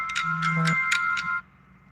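Phone alarm going off: a short electronic tone pattern of repeated bright beeps with a sustained low note, ringing about a second and a half before cutting off abruptly.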